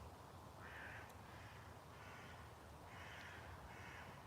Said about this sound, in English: All the crows are kicking off over there.